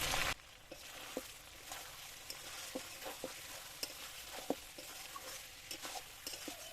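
Chicken curry sautéing in hot oil in a pan with coriander and cumin powder, a soft continuous sizzle broken by scattered scrapes and taps of the stirring spoon; a voice briefly speaks at the start.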